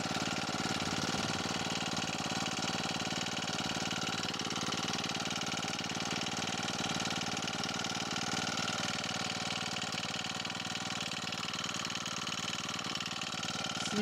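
An Akita string trimmer with a Honda GX35 four-stroke engine, in its fourth season, runs steadily just after a cold start, a loud, unbroken mid-pitched engine drone that holds even throughout with no talking.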